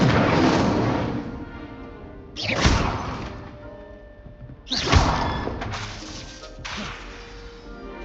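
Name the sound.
Incendio fire spell being cast in video game Hogwarts Legacy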